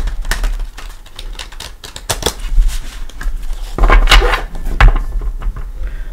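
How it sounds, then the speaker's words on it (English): Quick papery riffles and snaps of a tarot deck being shuffled by hand, in close, uneven bursts with soft knocks as the cards are squared. "Give it a shuffle."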